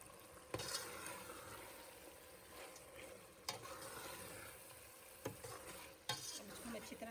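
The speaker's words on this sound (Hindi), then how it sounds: "अब इसको हम अच्छी तरह से भून लेंगे," Boneless chicken thighs cut into small pieces being stirred and fried in a pot for pilau, a steady soft sizzle with occasional sharp scrapes and clanks of a spoon against the pot, quiet and close.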